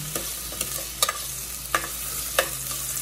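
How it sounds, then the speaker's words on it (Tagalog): Onions sautéing in a pan with a steady sizzle, broken by several sharp scrapes and clacks of a utensil stirring them, close and fairly loud, with no talk. "Sauté, sauté."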